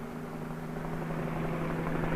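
A police helicopter flies over Portland, Oregon, heard as a steady, loud drone of rotor and engine with a strong low hum that holds unbroken throughout.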